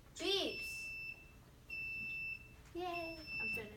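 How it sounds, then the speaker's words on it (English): A homemade alarm system gives three clear, steady electronic beeps, each about half a second long, separated by short gaps, with someone speaking before the first beep and during the last. "it beeps."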